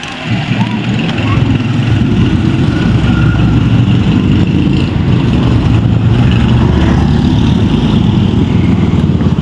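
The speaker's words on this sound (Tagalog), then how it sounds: "So medyo maingay lang dito kasi maraming mga sasakyan dumadaan." Loud, continuous roar of highway traffic nearby, with engines of cars and motorbikes rumbling past without a break.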